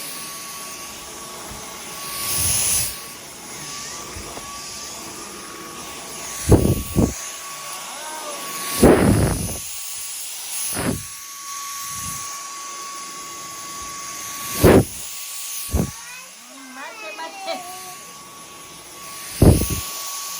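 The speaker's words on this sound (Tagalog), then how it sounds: "Ito po ang bagong vacuum." A new Dyson vacuum cleaner runs with a loud whooshing roar, rising and falling in repeated bursts as it is moved, with a short spoken word amid the noise.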